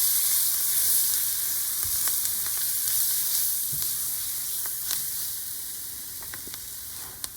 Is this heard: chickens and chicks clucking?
no